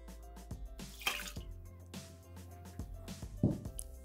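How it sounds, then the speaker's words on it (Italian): Milk poured into the bowl of a Thermomix TM6 kitchen machine, heard as faint, close splashing and trickling with a few soft drips and thuds against the bowl. "Iniziamo la ricetta mettendo all'interno del boccale il latte"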